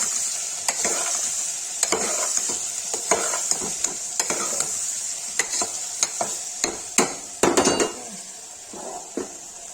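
Turnip pieces fry and sizzle in a pan with turmeric and red chili while a spoon stirs and scrapes through them, giving a steady hiss broken by irregular close clacks and scrapes.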